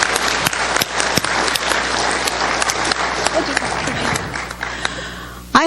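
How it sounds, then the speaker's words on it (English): An audience gives a family loud, sustained applause, with sharp individual claps standing out through the dense clapping before it cuts off abruptly at the end. "So give them a round of applause."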